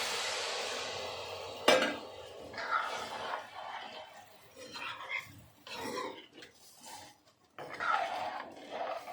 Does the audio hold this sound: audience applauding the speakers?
no